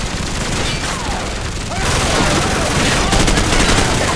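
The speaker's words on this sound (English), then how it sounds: "Open fire, Marines!" Dense, loud gunfire rattles continuously in Call of Duty 4: Modern Warfare, with overlapping automatic bursts and shots that intensify toward the end, with no pauses.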